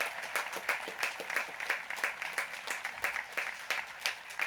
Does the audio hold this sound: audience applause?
yes